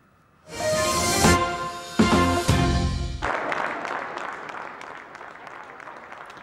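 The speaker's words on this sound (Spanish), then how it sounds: "Con aplausos de reconocimiento a los trabajadores de la salud" Applause for health workers starts after a brief pause and holds steady, a dense patter of clapping that thins into scattered claps toward the end.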